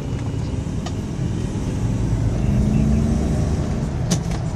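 A 1999 Bentley Arnage twin-turbo V8 engine hums steadily and builds as it accelerates, a low continuous drone with road noise and a brief faint squeak near the end.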